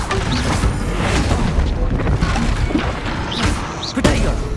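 Confringo fire spell blasts from the Hogwarts Legacy video game, a dense run of booming, crashing impacts and thuds layered over busy combat noise, with another sharp hit near the end.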